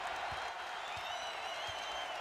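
Basketball arena crowd at an Iowa versus Indiana Big Ten game, a steady broadband roar of noise filling the space, with a few low thumps showing through over about two seconds.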